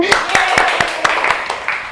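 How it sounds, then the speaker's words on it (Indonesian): A classroom of students claps in a steady, evenly spaced rhythm during a counting clap game, loud and close, while a teacher's voice talks over the beats. "Coba tepuk 1, tepuk 2, tepuk 3, tepuk tangan."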